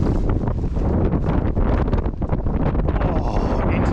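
Strong wind blows at the water's edge, roaring and buffeting the microphone in a loud, continuous rush with gusty swells throughout.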